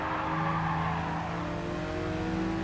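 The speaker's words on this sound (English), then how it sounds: "let's just slide it around the outside" A race car in Gran Turismo 7 slides around the outside of a corner, its engine droning steadily with strained, rising harmonics and a faint tire scrub, loud and continuous throughout.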